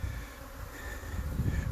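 Honeybees hum steadily around hives at an apiary after a blizzard, a continuous low drone with no voices.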